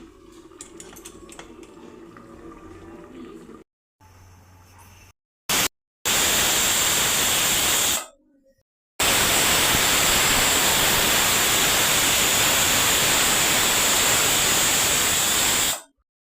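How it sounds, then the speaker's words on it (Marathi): A pressure cooker of pavta masala rice on a medium gas flame lets off loud, sustained hissing steam whistles in long bursts, broken by abrupt cuts and short gaps, with no voices. "आता आपण याला झाकण लावून मीडियम गॅसवरती दोन शिट्ट्या काढून घेणार आहोत"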